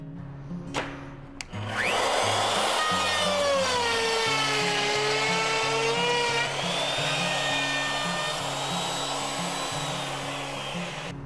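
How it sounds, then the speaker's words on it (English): A router cuts a dado across a wood panel on a panel-routing jig. A motor whine starts after a brief knock, then holds loud and steady as the bit chews through the wood, fading slightly near the end. "Now I can put the router back down and make my cut."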